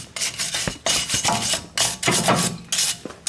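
The rear axle flange surface of a 2008 Toyota Tundra is scrubbed clean during a rear brake rotor and pad job, giving close, harsh rasping strokes in short repeated bursts with brief pauses, with no talking.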